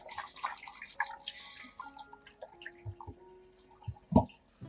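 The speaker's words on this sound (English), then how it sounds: "rinse the chilies thoroughly under running water" Chilies are rinsed under a faucet, giving scattered wet splashes and drips with small clinks, sparse and close, with a sharper splash near the end.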